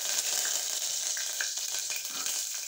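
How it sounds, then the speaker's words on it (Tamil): Whole spices, cinnamon, cloves and bay leaves, with curry leaves, sizzle steadily in hot oil in a home kitchen pan, a constant close hiss with small pops and crackles and no talking. "எண்ணெய் காஞ்சிட்டு பட்டை கிராம்பு பிரிஞ்சி இலை இலை ரொம்ப இலை போட்டாச்சு கருவேப்பிலை போட்டாச்சு"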